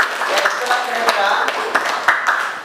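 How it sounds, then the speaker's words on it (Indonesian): Classmates clap for a student during a morning Islamic studies lesson, a short burst of scattered hand claps in a classroom with a voice murmuring underneath. "Tepuk tangan buat Raden."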